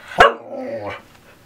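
A Samoyed lets out a sharp bark followed by a drawn-out, wavering howl-like vocalization rising and falling like a spoken phrase, close and loud, alone.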